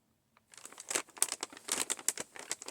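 A taped-up yarn package is peeled open, giving dense crinkling and tearing of tape and plastic up close, in a rapid irregular burst that follows a brief silence.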